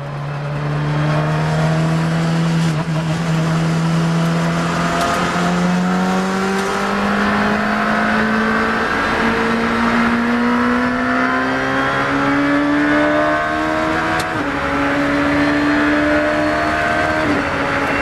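A track day car at full power around the Silverstone F1 circuit, its engine note droning loud and steady throughout, pitch climbing and dipping through gears and corners, with no talk over it.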